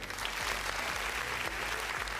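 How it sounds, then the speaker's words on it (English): Virtual round of applause closing a trade union regional workshop, a short burst of dense, continuous clapping at moderate level with no talking. "Virtual round of applause for everyone."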